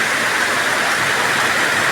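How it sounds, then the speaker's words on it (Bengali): Morning rain pours down in an unbroken, even hiss, loud and near, with no voices or other sounds standing out. "এই যে কি সুন্দর বৃষ্টি হইতেছে সকাল সকালে"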